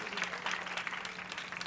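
Audience applause at an award ceremony honouring entrepreneurs, a steady wash of many hands clapping at moderate, fairly faint level, continuous throughout with no clear gaps.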